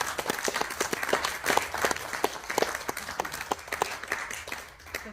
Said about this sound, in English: we have to give it a clap